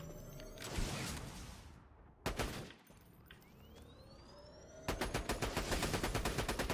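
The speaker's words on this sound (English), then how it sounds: "Alright, we'll keep shooting at him here." Gunfire in the video game Borderlands 2 comes as loud bursts of rapid automatic shots, with a lone crack near the middle and a sustained fast volley at the end.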